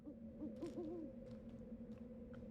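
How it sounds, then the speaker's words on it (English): Owl hoots from the video game Okami HD sound in a quiet night scene, a few soft wavering calls over a steady low ambient music drone, faint and somewhat distant. "Or owls, I guess, in this case."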